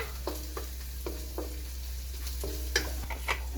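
Garlic frying in a pan for lugaw gives a steady sizzle with repeated scraping stir strokes, close and moderately loud, over a constant low hum.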